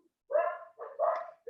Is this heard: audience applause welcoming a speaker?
no